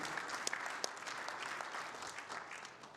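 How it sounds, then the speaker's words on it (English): Audience applause for a World War II veteran at an evening author talk, a steady patter of many hands clapping throughout at moderate distance. "Big round of applause."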